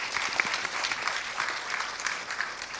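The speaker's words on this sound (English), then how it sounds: "a round of applause for our candidates on those topics" Brief round of audience applause at a primary candidates forum, many hands clapping in a dense, even patter, moderately loud and close, with no talking.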